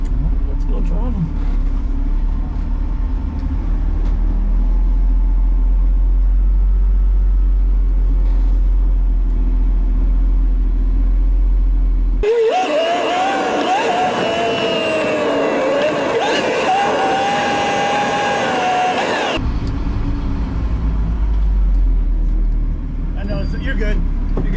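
A new race car during wet shakedown testing, its engine rumbling at idle, then a loud high-revving run with rising and falling engine pitch for several seconds before settling back to a low rumble, with talk nearby.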